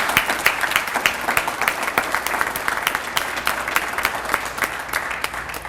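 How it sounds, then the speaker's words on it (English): Steady, dense applause from an afternoon audience at a school district reception honoring five retiring staff, continuous crowd clapping at moderate volume with no speech over it. "Let's give the 5 retirees with us here this afternoon another big round of"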